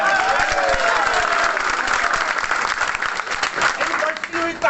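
Sustained applause and clapping from a crowd at a big political rally at the AVT hub, dense and steady throughout with a low murmur of voices mixed in.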